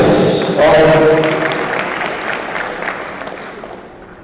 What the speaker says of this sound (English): please give your moderator a round of applause